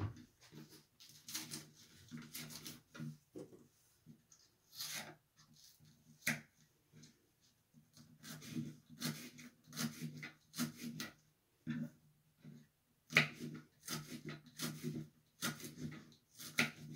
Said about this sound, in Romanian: O să folosesc o ceapă din asta mică, din asta verde. O să o tai